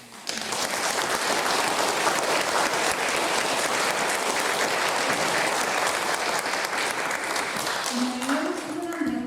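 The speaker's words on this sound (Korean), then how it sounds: "큰 박수를 주셔서 고맙습니다" An audience in a Catholic parish hall gives sustained, dense applause after a Lenten lecture, clapping loudly and evenly for about nine seconds before tapering off, with a voice faintly rising under the end.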